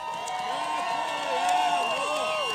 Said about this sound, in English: Oleksiy, from all of us here, round of applause to Oleksiy.